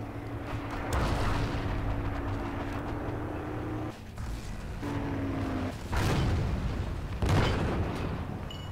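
Heavy booming gunshots from the World War II game Forgotten Hope 2, in a multiplayer battle, crack out a few times at irregular intervals over a steady engine-like rumble, loud and close.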